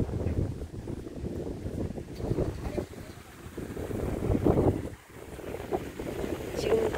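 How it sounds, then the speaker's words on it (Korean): Fresh summer wind blowing at Wolryubong peak in Yeongdong, a steady rough rushing that buffets the microphone, swelling and easing over several seconds with no clear voices. "여름인데도 신선한 바람이 불어줘서 너무 좋아요."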